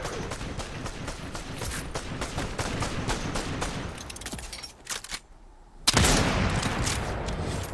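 Rapid bursts of Fortnite gunfire crackle continuously, briefly drop away to near silence, then resume loudly with heavy firing.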